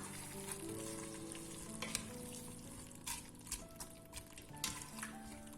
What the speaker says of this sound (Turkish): Domatesli salçalı sosun içerisinde biraz kavrulmaya devam edecek etimiz.